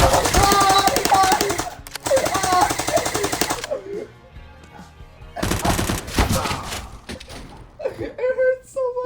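Rapid automatic gunfire bursts from the game CSGO ring out loud and close in two long volleys, then again after a pause, with a person's voice talking and exclaiming in between.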